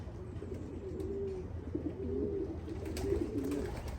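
Racing pigeons cooing softly in repeated low, rolling calls over a steady outdoor background, with no talking.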